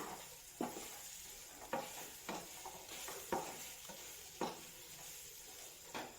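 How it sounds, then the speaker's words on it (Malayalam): Masala for a mushroom roast is stirred in a pan, with a low steady sizzle broken by about seven distinct scraping strokes at fairly even intervals. "ഇതൊക്കെ ഒന്ന് നന്നായി ഇളക്കാം"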